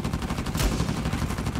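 Rapid gunfire crackles through a match in Uncharted 4 multiplayer, a dense steady burst of shots lasting under two seconds with a heavier thump midway.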